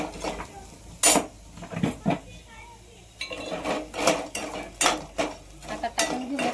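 A spoon clinks and scrapes against a pan while moong vada curry is stirred, Nagpur Saoji style. The metallic knocks come in irregular bursts, close and fairly quiet.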